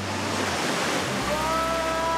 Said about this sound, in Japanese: 浦見の滝に着きましたね